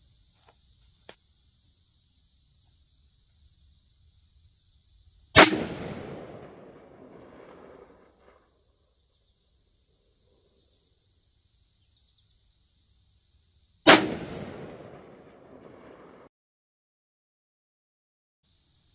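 Two loud, sharp rifle shots ring out about nine seconds apart, each with a trailing echo, while a rifle fitted with a Firefield Barrage 2.5-10x scope is zeroed outdoors against a steady background of chirping crickets.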